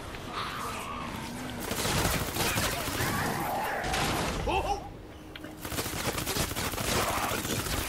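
Dense rapid gunfire from Fortnite Save the World, bursts of shots and crackling impacts piling up loud and close, with a brief lull before the shooting resumes.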